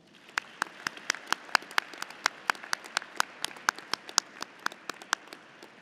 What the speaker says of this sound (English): LHS graduates, let's give them a big round of applause.